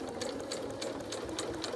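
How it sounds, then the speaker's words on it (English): A sewing machine topstitches a fabric face mask, a close, rapid mechanical chatter of needle strokes running continuously for a moment. "I'm going to start top stitching the mask."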